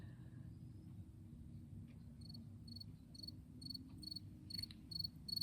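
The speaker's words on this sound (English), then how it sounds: "Crickets." Crickets chirp in quick, regular pulses over a low steady rumble, the high trills growing denser and louder toward the end while the night ambience stays calm and even.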